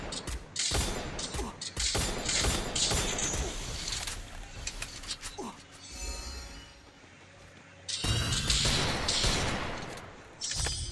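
Woodpecker gun fire in a shooter video game, bursts of rapid gunfire crackling in several loud volleys with a quieter lull in the middle before a final heavy burst.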